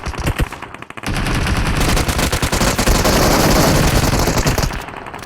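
Loud, close automatic gunfire in the mobile battle-royale game BGMI (PUBG Mobile). Rapid bursts run together into a dense, sustained barrage for several seconds, with a few separate shots at the start.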